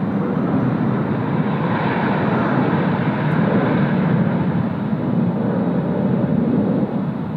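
An Asiana Airbus A380 airliner passing at Sydney Airport, a loud, sustained low engine rumble that stays steady throughout without any voices.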